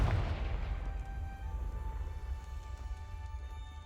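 A Confringo blasting-spell explosion in Hogwarts Legacy: a loud boom at the start that rumbles and decays slowly, with faint ringing tones lingering through the tail.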